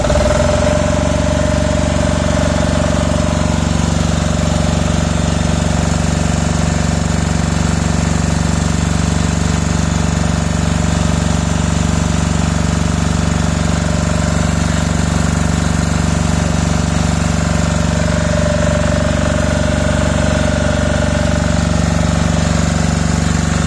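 A diesel generator runs at a loud, steady idle close by, its constant engine drone and hum continuing unchanged with no talk.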